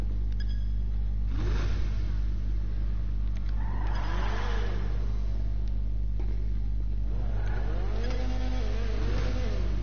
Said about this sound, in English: My car's engine's on.